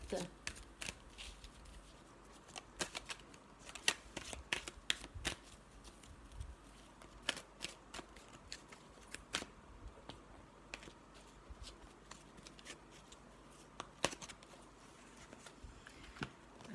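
Oracle cards are shuffled and drawn in a quiet room, giving scattered sharp riffling snaps and soft slides, close and crisp, with a faint voice speaking in the background.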